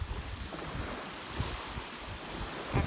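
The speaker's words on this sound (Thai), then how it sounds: "มาฟังเสียงคลื่นชมบรรยากาศข้างริมหาดชายด้วยกันค่" Sea waves wash steadily onto a sandy beach, a continuous broad rushing surf mixed with wind buffeting the microphone, with no voices.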